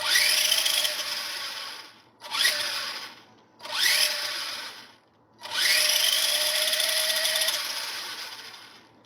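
Failing electric motor of a Volcano EPX RC car, held upside down and run in four bursts, giving a high, strained whine that rises and settles, the final burst long and fading, close and loud, with no talking.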